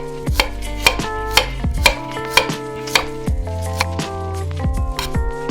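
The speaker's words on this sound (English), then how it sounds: "Next, slice the ginger thinly." Knife slicing ginger thinly on a cutting board while preparing nasi lemak, giving a rhythmic series of crisp, close chops, loud and regular with no talking.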